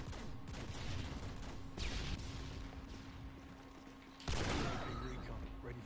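Faint, distant gunfire in a Modern Warfare 2 free-for-all match on the Favela map, heard as a few scattered bursts over a low background hum, with one sharper burst near the end.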